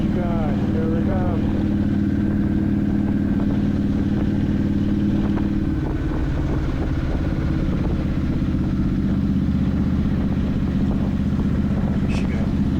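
A cruiser motorcycle rolls down the highway at low RPM on a long-distance ride, its engine holding a steady, deep drone with only small shifts in pitch throughout.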